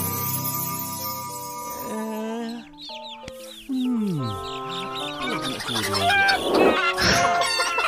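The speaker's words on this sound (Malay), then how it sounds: "Pergi halau ayam-ayam tu masuk reban." Chickens clucking and chirping around a coop in an Upin & Ipin cartoon, mixed with tonal music and voices talking, the clucks growing busier and louder toward the end.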